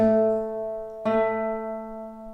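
A guitar string rings sustained, then is plucked again, the note slightly sharp with a faint wavering beat against another string.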